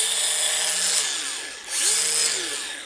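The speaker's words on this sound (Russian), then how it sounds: "Никаких проблем для включения болгарки из любого положения я не вижу." A DeWALT Atomic DCG400 mini angle grinder whines loudly and close, its pitch dipping as it spins down and rising again as it spins back up.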